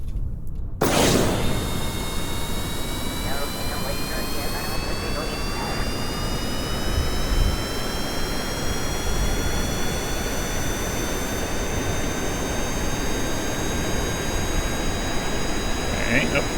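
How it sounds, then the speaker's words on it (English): A paper airplane's jet engine spools up for takeoff in Kerbal Space Program with a loud, continuous roar and a whine that climbs steadily in pitch after a sharp start. "We're just gonna test out this plane to see if we can get it off the ground and land it."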